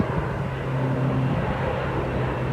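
A low-flying airplane passes overhead above a forest near a hut in hot, sunny weather, its steady droning engine rumble heard close and loud throughout, without talk.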